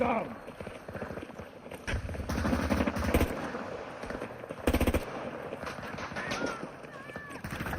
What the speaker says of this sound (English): people be shooting from a mile away